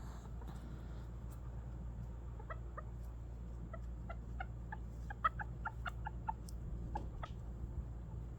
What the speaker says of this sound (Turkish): İki tavuk bir horoz var burada